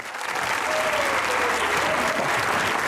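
A studio audience at a Geo News comedy talk show gives full, steady applause for a former Pakistani foreign minister, a thick continuous wash of clapping throughout.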